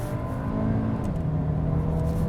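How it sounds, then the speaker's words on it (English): A 2026 Audi Q3 with a dual-clutch transmission downshifts quickly. Its engine drones steady and close from start to finish, with a rising revving tone and no voices. "The dual clutch actually shifts decently quick. Here's downshifting."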